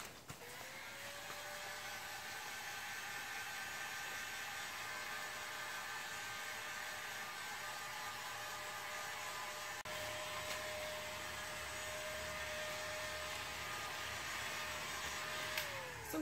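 A steady electric heat gun blows on epoxy on a redwood table, whirring continuously at an even pitch, a constant airy hum with no talking, running unchanged for the whole stretch.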